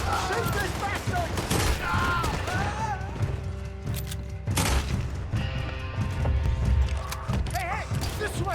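Gunfire bursts in the Red Dead Redemption 2 game, with a gang shootout erupting near burning tobacco fields. Sharp shots crack repeatedly over a busy mix of creaks and mechanical noises while voices shout over the action.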